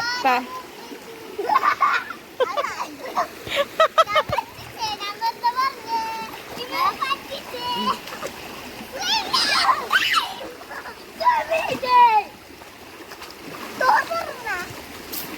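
Water splashing as people swim and bathe in a stream, with intermittent splashes mixed under lively, frequent chatter and children's voices close by.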